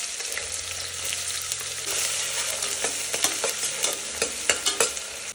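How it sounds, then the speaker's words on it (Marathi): Chopped onion hits hot tempering in a pressure cooker for Kolhapuri tambada rassa mutton curry, giving a steady close sizzle with repeated scraping stir strokes that grow sharper and more frequent toward the end. "सर्वात आधी आपण कांदा घालून घेऊयात।"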